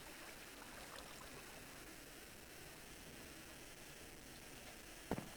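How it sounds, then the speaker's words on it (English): Flowing water in the video game Minecraft, a steady, faint trickling wash that continues evenly throughout with one brief click near the end and no voices. "Can I get rid of this water because the noise just annoys me."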